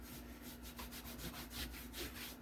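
Cotton cloth rubbing neatsfoot oil onto a tapered leather western gun belt, a steady soft swishing friction in repeated back-and-forth strokes, close and quiet against a faint hum.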